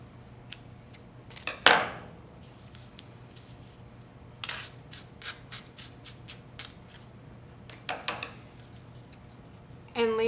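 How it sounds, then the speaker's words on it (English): Scissors snip through weft thread on a plain tabby weaving, a few quiet close cuts and rustles of handling scattered through a near-silent room, with one sharper snip standing out early. "So I'm actually just going to cut this weft here in the middle"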